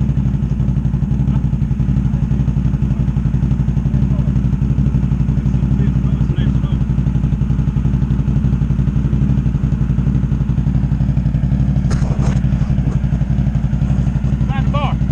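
A Can-Am off-road vehicle engine runs steadily and loudly throughout, a constant low rumble with clatter, close by and unbroken.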